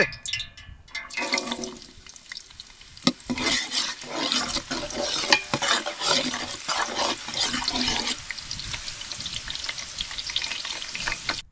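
Chopped onion fries in hot cooking oil with a loud, continuous crackling sizzle that swells and rushes, with scraping stirs throughout.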